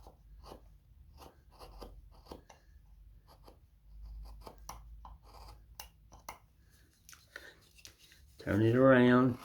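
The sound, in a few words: knife whittling a small wooden snowman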